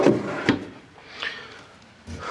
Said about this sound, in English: this storage compartment pulls out, you know, kind of like a drawer